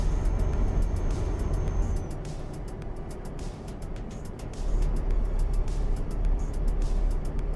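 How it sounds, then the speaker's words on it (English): A heavy truck engine drones steadily in Euro Truck Simulator 2, a loud low rumble that holds throughout, dipping briefly in the middle before swelling again, with faint clicks layered above. "The truck is a little loud."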